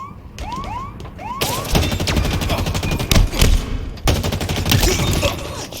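Rapid bursts of automatic gunfire and sharp weapon sounds in Halo Infinite, loud and near, with dense rattling fire continuing throughout amid chirping electronic effects.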